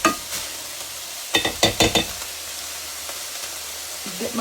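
Onions dropped into a pan for a crockpot cabbage soup, several quick clattering hits and stirring scrapes over a low frying hiss, close by.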